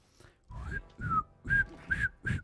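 Whistling from a player character in the co-op video game It Takes Two: five short, clear whistled notes in a steady rhythm, each a bright upward-gliding tone, close and fairly loud, with brief pauses between them.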